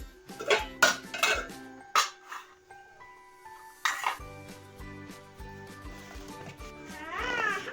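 Pots, pans and cutlery clatter and clink close by during dishwashing at home, in irregular bursts of knocks and metallic rings, with a brief cat meow and a faint voice near the end.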